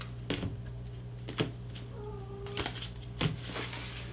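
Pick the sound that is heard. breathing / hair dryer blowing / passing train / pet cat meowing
pet cat meowing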